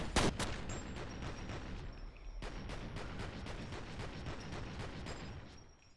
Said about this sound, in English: I emptied my entire gun into that fucker.